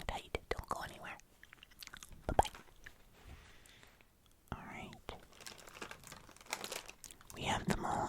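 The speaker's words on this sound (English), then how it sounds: "So, I'm just going to unpack these as much as I can, realistically" Crinkly plastic packaging from Tim Tam biscuits is unwrapped up close, with soft rustles and sharp crackles in uneven bursts alongside faint mouth sounds and whispered speech.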